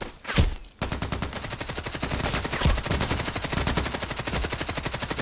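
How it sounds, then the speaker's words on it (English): In a shooter video game, an enemy fires through a house: one sharp shot, then a long, rapid, steady burst of automatic gunfire that is loud and continuous. "Was he shooting me through the house without seeing me?"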